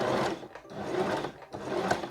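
A sewing machine stitching piping onto a small fabric pouch, three bursts of fast, steady whirring separated by brief pauses, close and moderately loud, with no talking.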